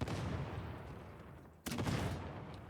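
An Ogryn's grenade launcher fires in Warhammer 40K: Darktide, two heavy booming blasts with rumbling tails, the second landing sharply about halfway through.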